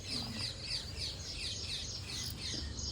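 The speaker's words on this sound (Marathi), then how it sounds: "पक्ष्यांचा पण खूप आवाज येतोय." Birds chirp and tweet together in the early morning in Maharashtra, a dense, continuous chorus of high calls over a low background rumble, with no talking.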